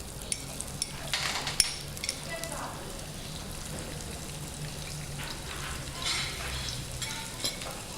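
Onions sizzle and fry in a pan for a Creole tiapati dish, a quiet, steady crackle with occasional stirring scrapes and faint background sounds.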